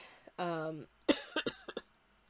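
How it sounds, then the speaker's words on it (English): A few short, sharp coughs close to the mic, spaced unevenly, following a brief voiced sound, with quiet room tone between. "Apologies for the coughs."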